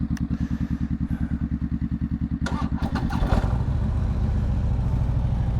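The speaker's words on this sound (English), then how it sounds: "Harley's always kind of struggled to start up from what it seems" A 2016 Harley-Davidson Street Glide motorcycle cranks with a rapid, rhythmic starter chug for about three seconds, then catches and settles into a loud, rumbling idle.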